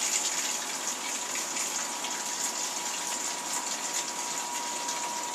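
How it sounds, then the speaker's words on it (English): Clean-in-place pump spraying rinse water inside a Brewhemoth conical fermenter, a steady loud rushing gush with a faint pump whine, continuous throughout. "this is just going to be a quick rinse, just to get all the junk,"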